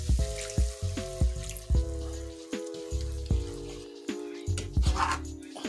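A cup of water is poured into a pan holding vegan panko and bouillon for stuffed acorn squash, heard as close rhythmic glugging splashes with a ringing tone from the pan.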